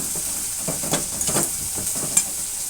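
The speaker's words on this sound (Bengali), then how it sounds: "এবার সব উপকরণ দিয়ে ভালো করে আমি এটা কষিয়ে নেব" Spiced masala with chilli powder being stirred and fried in a pan for a cauliflower mash, a steady sizzle broken by repeated scraping strokes of the spoon, close and moderately loud with no voices.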